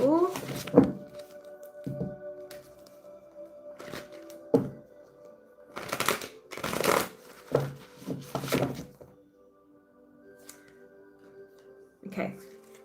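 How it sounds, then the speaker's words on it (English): Tarot cards shuffled in several short, papery bursts with pauses between them, close by, with a few soft knocks and quiet vocal sounds in between. "Right, one more shuffle."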